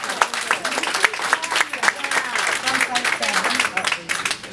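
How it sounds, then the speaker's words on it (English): Studio audience breaking into a round of applause for a guest after a weight-loss reveal, dense steady clapping filling the whole stretch with voices cheering over it. "Give her a big round of applause."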